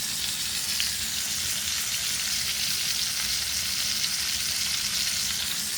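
Pork chops frying in a pan give a steady, dense sizzle and crackle that holds close and even throughout, with no voices over it.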